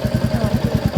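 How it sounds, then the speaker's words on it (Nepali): Motorcycle engine running close by, a rapid even low throb pulsing several times a second, loud and steady with no voices. "त्यो बाइक हो"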